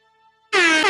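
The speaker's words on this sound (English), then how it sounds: "Give it 5 air horn" A single loud, blaring air horn blast bursts in suddenly after near silence and holds steady until the end.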